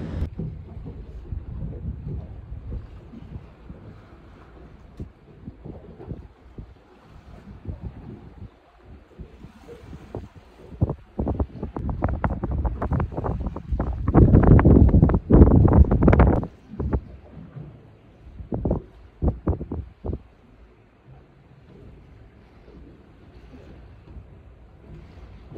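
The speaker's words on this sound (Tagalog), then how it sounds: "Really not a whole lot going on out here other than just wind and waves." Wind gusts and lapping waves on Lake Minnewanka near Banff, with buffeting bursts that swell loudly mid-way before settling back to a low, steady rush.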